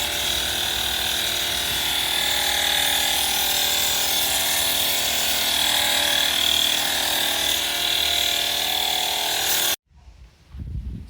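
A HAUSHOF 61 fl oz electric foam sprayer runs a fine rinse with a loud, steady motorized buzz and hiss that holds unbroken for about ten seconds, then cuts off abruptly, leaving brief faint handling noise.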